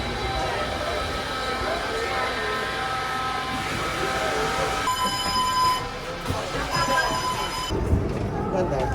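An underground metro train on a double-level underground line in Hungary rumbles steadily and loudly throughout, with a bright tonal whine in the second half, as people talk over it.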